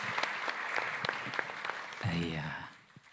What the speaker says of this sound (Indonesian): tepuk tangan boleh Bapak Ibu